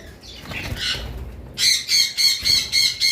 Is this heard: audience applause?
no